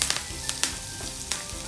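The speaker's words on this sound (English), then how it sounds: "And I'm going to add in the curry leaves." Curry leaves hitting hot oil with hing, a sharp sizzle with several quick crackling pops over a brief steady frying hiss, close and without speech.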